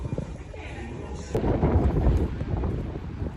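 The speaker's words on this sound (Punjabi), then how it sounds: "ਹਵਾ ਚੱਲਦੀ ਆ ਪਰ ਵੈਦਰ ਬਹੁਤ ਸੋਹਣਾ ਹੈਗਾ" Outdoor wind in the UK rumbles and buffets against a microphone, a steady low roar that swells midway and keeps gusting to the end.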